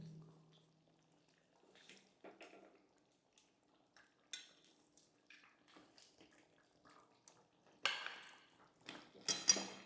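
Spoon scraping and clinking in a pan as cauliflower is stirred with shahi garam masala, with scattered metallic knocks and scrapes that get louder and busier toward the end; no talking.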